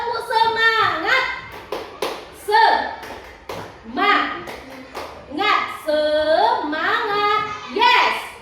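A group of schoolchildren performs a rhythmic spirit clap in a classroom, with patterned bursts of claps mixed with their chanting voices and an adult's voice leading them.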